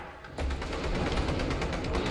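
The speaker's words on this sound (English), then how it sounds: "Gunfire." Rapid gunfire in Fortnite breaks out suddenly and keeps going as a loud, dense burst of shots with no talk over it.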